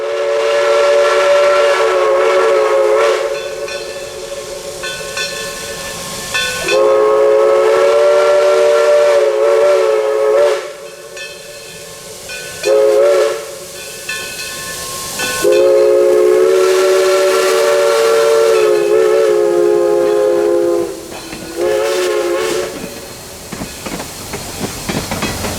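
A loud, sustained steam locomotive whistle, Great Smoky Mountains Railroad No. 1702, sounds in long blasts with short breaks, over continuous rumble and clatter of the passing train.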